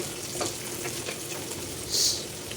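Small pieces of toasted pork sizzle and crackle steadily as they are sautéed in a pan, with a brief louder hiss of frying near the end and no talking.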